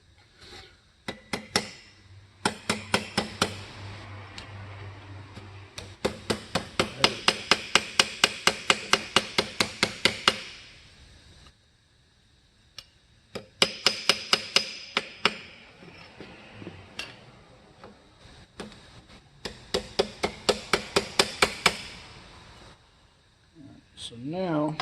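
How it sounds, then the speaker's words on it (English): Aluminum armor ear flaps for a Colonial Marine costume being hammered left-handed: bursts of rapid, ringing metallic strikes in steady runs, separated by short pauses, close and clear. "Need to do is learn to hammer left-handed."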